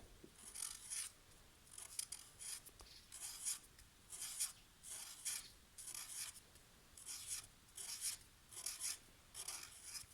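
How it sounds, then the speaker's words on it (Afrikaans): A pen scratching rapid marks on paper in about ten short, evenly spaced bursts, close and fairly quiet with no talk. "Eers teken ons 10 kolle."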